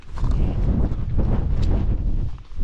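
Wind buffeting the microphone on an exposed hillside along the Pennine Way, a loud continuous low rumble with gusty swells and rustle, steady throughout with no talk.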